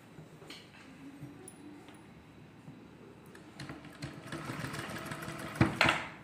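Sewing machine stitching a cotton water bottle cover, a mechanical whirring that starts quietly and grows louder and busier toward the end, with a few sharp clicks near the close.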